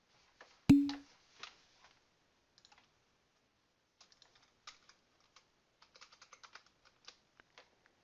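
Light typing on a computer keyboard in a quiet room: one louder thump, then scattered soft key clicks in short irregular bursts, close and faint.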